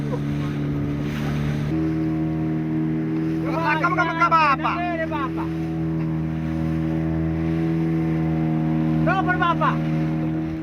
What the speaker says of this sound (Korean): 모터배의 속력을 높여보지만 고래를 따라잡기엔 역부족.